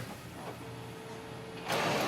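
An Epson WF-7820 inkjet printer starts a copy job with a steady low mechanical hum and whirr, then a louder rush of motor and feed noise near the end, close and continuous.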